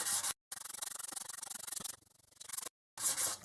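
Metal hand-sanded with 800 grit wet and dry sandpaper while cleaning a Squire SS50C body, heard as close rhythmic scraping strokes in short bursts with brief silent gaps, without speech.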